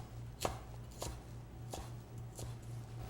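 A knife chopping leeks into julienne on a cutting board, four crisp evenly spaced taps roughly every half second to second, close and clear over a low steady kitchen hum.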